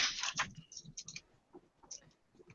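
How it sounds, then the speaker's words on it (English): Soft keyboard typing during an online voice chat about video games, a short burst of quick clicks up front followed by sparse, faint key taps; quiet and close, with low background murmur. "I hear the typing of a keyboard."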